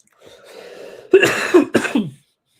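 A short throaty vocal sound leads into two sharp coughs, close and loud, then silence.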